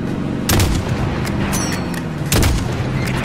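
Call of Duty Modern Warfare gunfire on a highway: two heavy, booming shots stand out over continuous rattling weapon fire and rumbling battle noise, loud and close.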